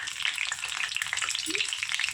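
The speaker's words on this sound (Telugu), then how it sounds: "జీలకర్ర, మినపప్పు, ఆవాలు వేసి మంచిగా ఫ్రై చేసుకోవాలి." Dried red chillies, cumin, urad dal and mustard seeds frying in hot oil in a kadai for an Andhra cabbage pachadi tempering, a steady close crackling sizzle with tiny pops throughout and no talk.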